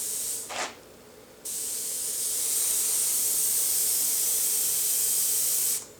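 Spray paint hisses as a DuraCoat finish goes onto Saiga 7.62 rifle parts: a short burst, a pause, then one long steady spray lasting several seconds, loud and close, with no talking.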